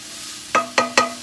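Mushrooms with ginger and garlic sizzling in a chicken and vegetable stir fry, with three quick scraping stirs of a utensil in the pan over a steady close frying hiss.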